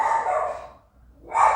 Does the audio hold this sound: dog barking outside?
yes